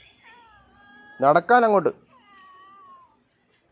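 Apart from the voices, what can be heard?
cat meowing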